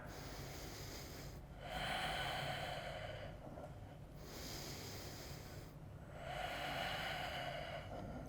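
Slow, deep breathing in a strong yoga practice, each long inhale and exhale rising and falling in smooth airy waves, close and steady with no talking.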